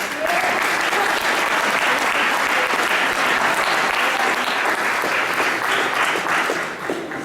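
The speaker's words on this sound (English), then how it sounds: "I give you a round of applause for surviving" A transfer ceremony crowd at LBCC in 2015 gives sustained, even applause for the graduating class, a loud continuous roar of many hands that fades slightly at the very end.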